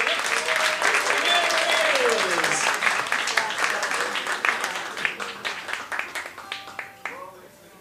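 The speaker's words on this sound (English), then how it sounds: "Please applaud for that and keep it going until the next one." A song contest audience applauds, loud sustained clapping from a crowd that gradually thins into scattered, fading claps, with a voice speaking briefly over it.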